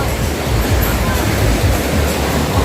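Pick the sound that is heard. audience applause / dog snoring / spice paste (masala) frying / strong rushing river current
strong rushing river current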